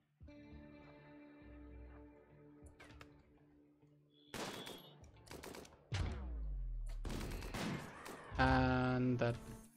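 Gunfire in the video game Rimworld comes as scattered sharp shots and bursts, growing louder and denser toward the end, mixed with other game effects and a voice speaking at times.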